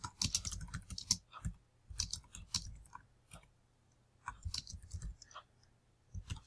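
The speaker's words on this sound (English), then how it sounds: "I'm not going to bore you with all the typing" Computer keyboard typing in irregular bursts of crisp, close key clicks separated by short pauses, with no voices.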